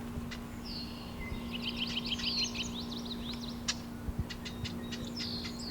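A marsh wren scolds near its nest in a marsh, giving rapid buzzy chattering rattles and a few sharp ticks, moderately close against a constant low hum, with no talk.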